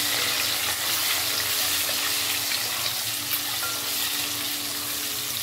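Eggs fry in oil with turmeric, giving a dense, steady sizzle that holds at an even, loud level throughout with only slight flutters.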